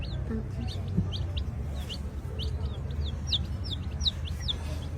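Several high, short chick chirps repeat in quick bursts over a steady low rumble, with some faint clucking in the background.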